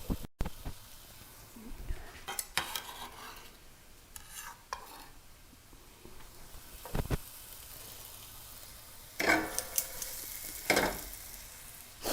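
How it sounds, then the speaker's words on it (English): Onions sautéing in a pan for a plant-based burger, a low continuous sizzle with occasional scraping stirs and brief louder bursts of frying noise. "our onions are sauteing"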